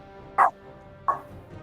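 A dog gives two sharp barks about half a second apart, the first louder, heard at moderate distance, then a faint third yip fades out in a quiet room.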